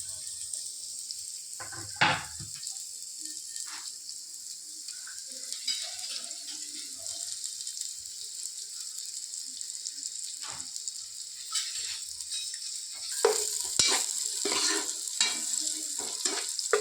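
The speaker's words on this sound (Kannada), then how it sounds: "ನೀರುಳ್ಳಿಯನ್ನು ಫ್ರೈ ಮಾಡುವ" Sliced onion fries in ghee in a pan with a faint, continuous sizzle, broken by occasional scraping stirs of a spoon that grow busier near the end.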